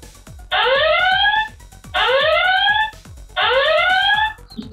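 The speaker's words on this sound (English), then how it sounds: "We have the siren. So if I turn it on, it will probably gonna alarm." A Littlelf indoor security camera sounds its siren alarm: three loud, identical rising electronic wails, each about a second long, separated by short gaps with faint clicking in between.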